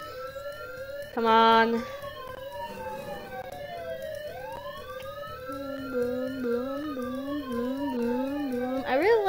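Police sirens in the video game Thief Simulator wail and sweep in pitch, starting under a man's brief speech, with a short loud burst early and a rising yelp near the end.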